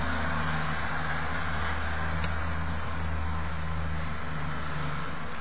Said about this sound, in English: Sounds like a gritter lorry.